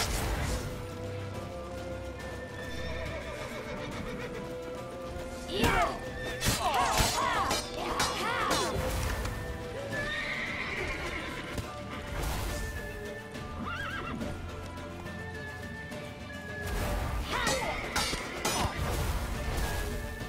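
A horse whinnies and neighs repeatedly over the clatter of galloping hooves in The Witcher 3 video game, with crashes and game sounds around it and no talk.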